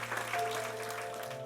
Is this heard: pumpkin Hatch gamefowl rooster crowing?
no